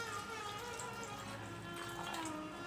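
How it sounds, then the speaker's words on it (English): Water pours steadily into a bowl of homemade adai ready mix powder for batter, a continuous close trickling splash with no talking. "Now add water."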